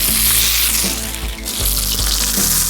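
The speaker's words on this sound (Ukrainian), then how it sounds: "Обсмажуємо до золотистого кольору" Chopped onion sizzles steadily in a preheated frying pan, a loud, continuous crackling hiss with no talking.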